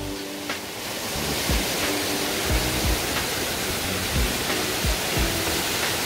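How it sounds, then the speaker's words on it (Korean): Heebang Waterfall in Sobaeksan National Park near Yeongju, with water dropping about 28 m, gives a loud, steady, close roar of falling water with no one talking. "희방사야 희방폭포에 도착을 하였습니다."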